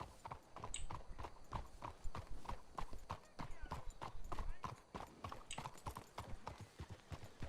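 Horses' hooves clip-clop steadily in Red Dead Redemption 2, a continuous close rhythmic clatter of several hoofbeats running throughout.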